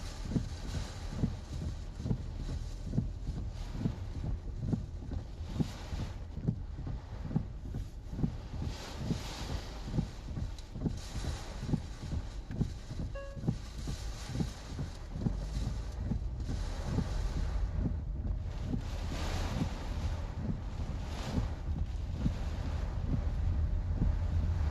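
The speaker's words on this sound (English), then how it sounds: "This wind coming up." Strong wind from Hurricane Melissa at landfall, roaring steadily against the microphone with repeated gusting thumps, loud and constant for almost 25 seconds, with no voices.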